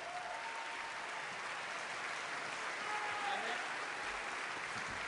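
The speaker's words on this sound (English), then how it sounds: "Please give him a round of applause." An audience at a tribute concert applauds steadily, a dense wash of clapping from a large crowd that holds at an even level throughout.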